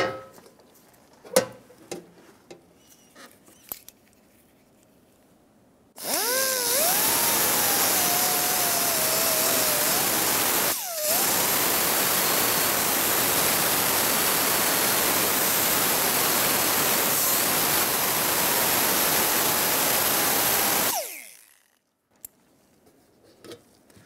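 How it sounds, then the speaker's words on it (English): Power tool grinding away a cab corner on a 2001-2006 Chevrolet Silverado 2500, a loud sustained whine of about fifteen seconds with a brief dip midway, starting and stopping abruptly with a rising and falling pitch. "We'll just have to trim down our cab corner to fit in place there once it's ready."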